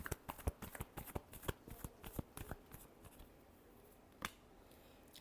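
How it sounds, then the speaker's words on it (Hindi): Tarot cards shuffled by hand: quick riffling flutters and snaps in bursts, close and soft, tapering off near the end with one last flick. "last shuffle"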